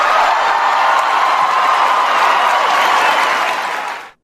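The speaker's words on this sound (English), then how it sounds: "Listen to how long they cheer for that." A large crowd applauds and cheers loudly in a continuous roar of clapping mixed with shouts, holding steady before cutting off abruptly at the end.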